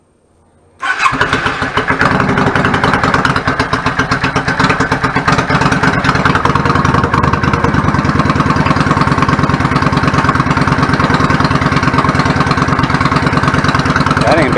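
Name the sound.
1999 Yamaha VStar 650 Classic motorcycle engine idling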